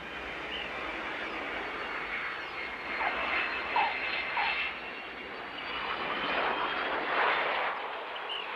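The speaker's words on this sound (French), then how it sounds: "Je suis jamais montée dans ce genre d'avion." A small airplane's engine drones steadily in flight from inside the cabin, a loud continuous roar with slight swells in intensity and no talking.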